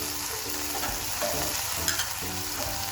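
Garlic powder and spices fry in a pan while being stirred for a homemade pizza, giving a steady close sizzle with scraping stir sounds and occasional small clinks, without any voices.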